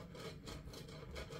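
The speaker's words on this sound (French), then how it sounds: "Je vais passer le pinceau." A pastry brush sweeps over the plate of a Lagrange waffle iron with soft, faint rubbing strokes. It makes a quiet rhythmic brushing texture repeated several times.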